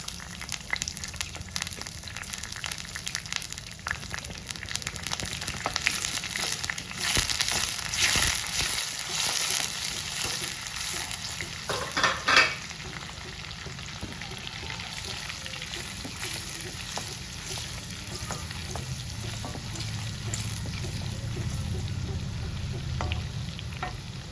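Chana dal and other ingredients sizzling and frying in a pan for a spinach and flour curry, with steady crackling and occasional stirring scrapes throughout, close and moderately loud.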